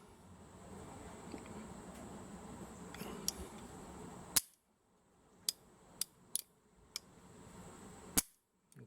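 Heritage Arms .22 Rough Rider single-action revolver handled closely, giving a few sharp metallic clicks and snaps from the hammer being cocked, spaced apart with quiet gaps between them.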